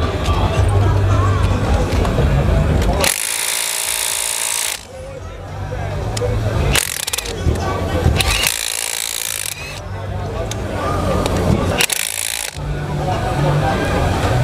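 A Bosch impact wrench drives a fastener at a World of Concrete 2023 demo, with loud bursts of hammering around 3–5 s, 7–8 s and 12 s over constant crowd noise and nearby talking.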